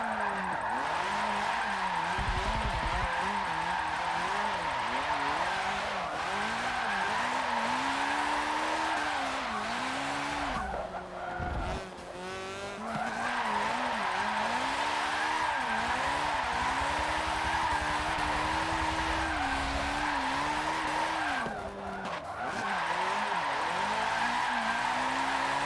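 A car drifts in the Forza Motorsport 7 racing game, its engine note rising and falling under sustained tire squeal, with short gaps where the revs drop before the slide resumes.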